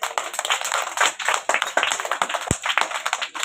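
Children at a school teachers' day celebration clap their hands together in a lively, uneven patter of many close claps lasting throughout, with a single sharp thump partway through.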